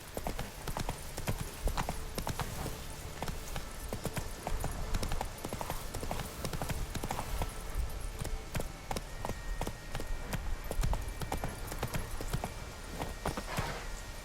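Horse hooves clip-clopping at a steady galloping rhythm in The Witcher 3: Wild Hunt, loud and continuous throughout with a brief whinny and game ambience around it.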